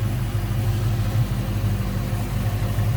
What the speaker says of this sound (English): good sounding 302 or 5-liter